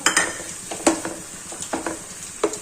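Chopped tomato stirred and sautéed in a pan with onion and green garlic for a green pigeon pea curry, a spoon scraping and clinking against the pan in irregular strokes over a soft sizzle, close and alone.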